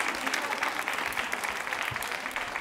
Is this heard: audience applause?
yes